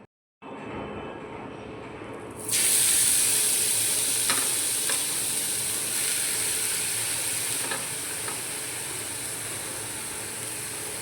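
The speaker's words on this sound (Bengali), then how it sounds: "গাজরটাকে ভেজে নেবো" Carrots fry in a spoonful of ghee in a kadai for carrot payesh. A loud, steady hiss bursts in after a quiet start and holds evenly, with a few faint stirring knocks.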